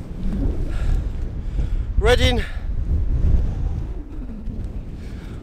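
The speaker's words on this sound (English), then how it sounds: "Sorry if it's a bit windy." Gale-force gusts buffet the microphone in a low, steady rumble on a winter mountain, with a voice speaking over it and a brief higher whistling sound partway through.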